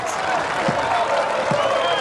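Crowd of about 3,700 spectators at a Swiss Cup football match between FC Eschenbach and FC Basel, applauding and cheering in a steady, broad wash of clapping, with a voice talking over it.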